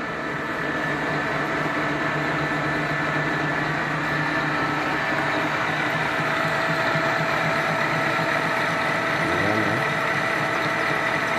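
A lathe turns and cuts a tiger bronze sleeve with a loud, steady machine drone and a continuous grinding cutting tone, close and unbroken throughout.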